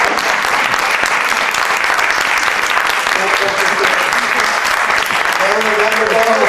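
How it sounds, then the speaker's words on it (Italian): Sustained applause from an audience at a press conference in Italy, a dense, loud, steady patter of clapping hands that fills the room, with voices faintly mixed in. "Can we please get an applause for our translator?"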